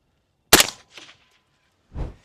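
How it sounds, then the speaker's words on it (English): A single sharp, loud 6mm ARC rifle shot cracks out against a concrete barrier, then fades into a short tail of echo. A duller thump follows a moment later. "6mm ARC against our concrete barrier, firing"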